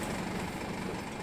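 A London bus engine on route 424 running steadily just after startup, a continuous close diesel drone with a dense rattling idle texture, unchanging throughout the short stretch and no talk.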